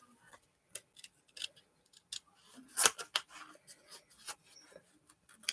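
Scissors fussy-cut watercolor paper up close: a quiet series of irregular snips and crisp clicks, one sharper cut standing out midway, with no talking.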